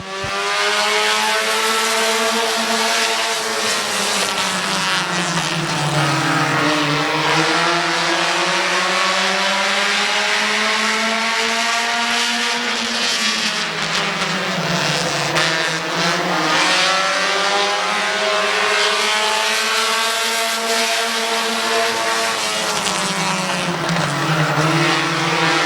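Race cars roaring around Midvale Speedway, a loud continuous engine drone that rises and falls in pitch as the pack passes, accelerating and easing through the turns.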